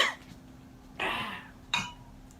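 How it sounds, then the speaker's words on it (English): Two sharp, harsh coughs from a man, close and alone, separated by a short pause, in a knife-making shop with dust in the air. "gotta pause because I gotta cough again"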